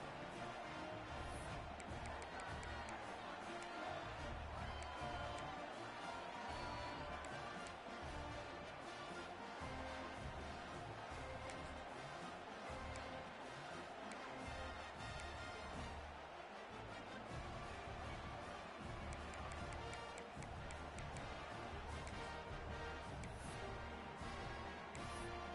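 Stadium crowd in a college football video game, a steady, dense roar of many voices filling the background throughout, loud and unbroken with faint swells.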